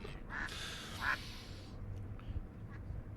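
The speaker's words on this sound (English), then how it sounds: "You get one frantic quack, and all the ducks are listening." Ducks at a crater lake in Sete Cidades on the Azores give a couple of short, sharp quacks early on, then go quiet over a steady low outdoor rumble.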